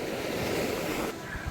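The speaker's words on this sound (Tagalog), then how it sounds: "Alam niyo yung tunog ng alon, parang nakakahele." Ocean waves wash steadily onto a beach in Dakar, Senegal, a continuous broad roar of surf with some wind noise, easing slightly near the end.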